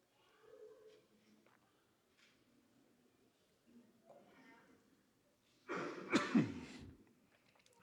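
Coughs and throat clearing from a church congregation during a Portuguese sermon, scattered bursts with a louder, closer coughing fit near the end, separated by quieter stretches.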